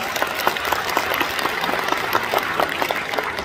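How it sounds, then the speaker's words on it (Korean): Steady applause from a trot concert audience, a dense wash of claps with no pauses, going on throughout. "여러분, 큰 박수로 오시죠"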